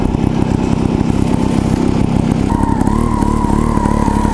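Gas Gas TXT 280 trials motorcycle ridden over steep little obstacles, its engine loud and close with a choppy throttle pulse, settling into a steadier higher drone toward the end.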